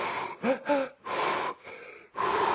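Deep, forceful breaths during a breathwork exercise, several audible inhales and exhales in an uneven rhythm, close and fairly loud with no speech.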